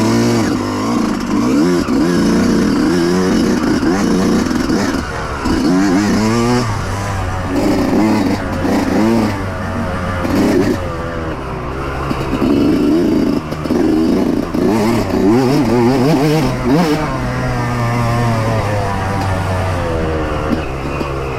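A Yamaha YZ125 two-stroke dirt bike working through a muddy rut, its engine loud and close throughout, revving up and down with rising and falling pitch.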